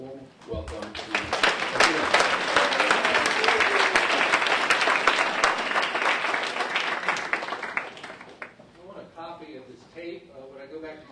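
An audience at a digital journalism lecture breaks into loud, sustained applause to welcome the speaker, which tapers off near the end as a voice begins talking.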